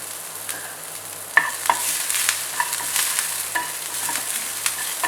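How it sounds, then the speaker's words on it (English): Green chilies, ginger and curry leaves sizzle in hot oil in a pan, a steady close fry with occasional sharp pops and stirring clicks, no talking. "I'm just frying these for like 5 to 10 seconds"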